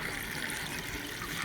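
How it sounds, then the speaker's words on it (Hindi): Water running and splashing while mangoes are washed for a traditional village-style pickle, a steady close trickling wash with no talk. "इस तरह हम आम को अच्छी तरह से धो लेंगे।"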